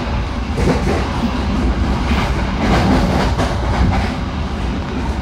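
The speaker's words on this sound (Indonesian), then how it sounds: "Baru saja kereta Jayabaya melintas stasiun Wadu" A Jayabaya passenger train rumbles steadily past a station in the rain at close range, a continuous heavy roar with faint rhythmic clatter of wheels throughout.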